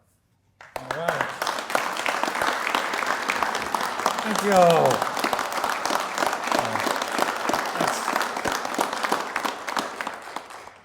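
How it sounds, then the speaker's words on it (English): Crowd applause at a Pike County press conference with the governor, a steady patter of clapping that runs for about ten seconds while someone speaks over it. "I know y'all are just clapping because we bring checks."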